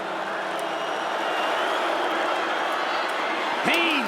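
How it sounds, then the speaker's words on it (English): A football stadium crowd in the Dome during a Georgia Tech vs. Syracuse game, a steady broad roar of cheering fans that holds at an even level throughout. "Crowd on its feet here in the Dome."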